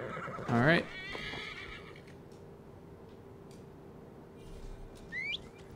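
A horse whinnies in the Skyrim video game, one loud quavering neigh near the start followed by soft hoof clops and faint bird calls over a steady game ambience, with a brief whistled chirp near the end.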